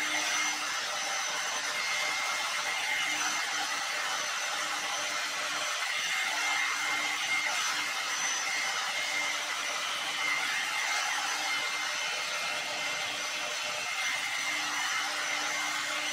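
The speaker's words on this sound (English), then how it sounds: "I just keep drying them in like bits because the hair dryer can't really dry it all at once" A hair dryer runs steadily while drying hair in sections, giving a continuous, close, even whoosh with a faint motor whine throughout and no talking.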